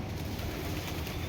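Pigeons gather at a scattered-grain feeding spot, their soft cooing and rustling blended into a steady, close outdoor ambience with no pauses.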